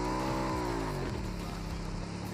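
A motorbike engine in the BGMI mobile game revs in a steady, loud drone, pitch sweeping down and then levelling off at a lower idle as gears change.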